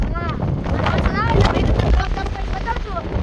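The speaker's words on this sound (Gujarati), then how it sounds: "આમ ફૂલ પવન હે વરસાદ આવવાની ફૂલ ગેરંટી" Strong wind blows outdoors before rain, roaring steadily across the microphone with continuous heavy rumble, while a person talks over it.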